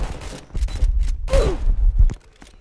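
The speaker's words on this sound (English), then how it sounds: "I just got shot." Gunfire in Roblox Prison Life, a few loud, close bursts of shots, mixed with other game sounds over about two seconds.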